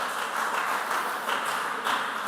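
Audience at a junior high school quiz competition semi-final applauds a team's round-one score, a steady, dense clapping wash with slight surges, moderately loud and continuous throughout.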